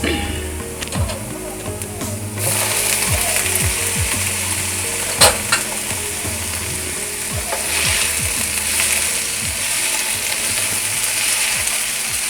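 Tomatoes sautéing in a pan for fish pollichathu, a dense steady sizzle heard up close alongside a run of quick rhythmic clicks and tapping scrapes from stirring, with one sharper knock partway through; no talking.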